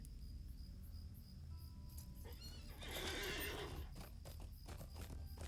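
A horse in Lord of the Rings Online whinnies loudly mid-clip, its hooves clip-clopping steadily against a backdrop of chirping crickets and soft game ambience, with no talking.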